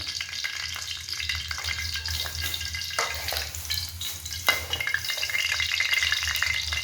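Leafy greens stir-fry in hot oil with oyster sauce, a steady loud crackling sizzle with bursts of stirring and spatula scrapes running throughout, no voices.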